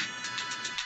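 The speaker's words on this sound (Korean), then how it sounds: "그때 전화가 울리기 시작해요." A telephone ringtone chirps in a rapid repeating electronic pattern, steady and fairly loud with no voices.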